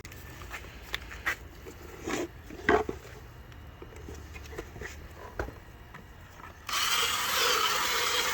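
Holes in the plastic air cleaner housing of a 2015 GMC Terrain are enlarged with a power drill: scattered scraping and handling clicks, then a steady, loud drill whir fills the last couple of seconds.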